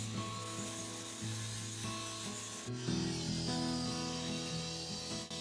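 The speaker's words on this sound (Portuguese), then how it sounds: "Uso um disco flap na esmerilhadeira para remover isso até a madeira crua rapidamente." Rough abrasive rasping of an angle grinder with a flap disc sanding wood down to bare timber, continuous with a steady motor whine underneath that shifts pitch partway through.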